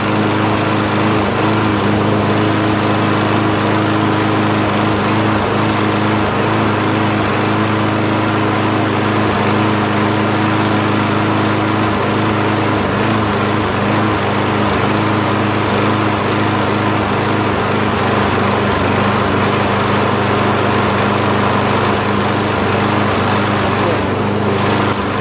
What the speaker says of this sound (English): Got the carburetor on there, got it started up, runs pretty well